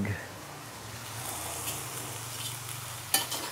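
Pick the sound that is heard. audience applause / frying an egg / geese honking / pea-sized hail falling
frying an egg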